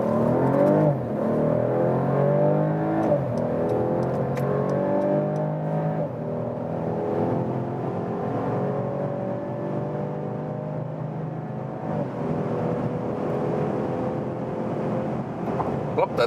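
A 2022 facelifted Mercedes CLS 450 with a 3-litre engine pulls hard in Sport Plus mode from about 30 km/h, giving a loud, sustained engine drone with rising harmonics and steady road and wind roar.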